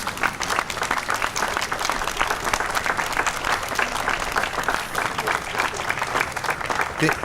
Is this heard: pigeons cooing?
no